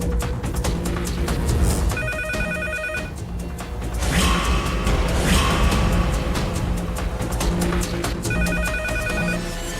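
A telephone rings in bursts of a repeating electronic bell tone, sounding in an indoor domestic scene from a Telugu TV serial, with steady background music and room noise beneath it.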